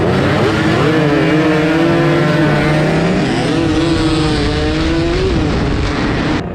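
A Suzuki Satria two-stroke motorcycle engine with its compression being set revs loudly and close up. The whining pitch climbs, drops at a gear change, then climbs again and holds, with no voices heard.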